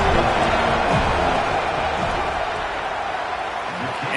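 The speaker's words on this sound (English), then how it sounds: "This crowd trying to do its part to get inside the kicker's head." Stadium crowd in the NCAA 27 college football video game roaring steadily as a field goal unit lines up, a dense, loud wash of cheering under continuous talk.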